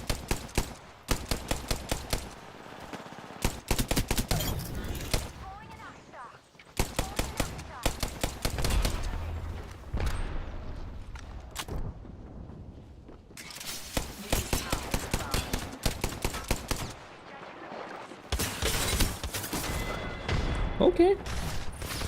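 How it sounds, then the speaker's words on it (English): Rapid bursts of gunfire from high fire-rate guns in Apex Legends, with repeated fast volleys separated by short pauses, loud and close, and a person talking in between. "some of these guns with the very high firing rates are quite fun, but they run out of ammo so quickly"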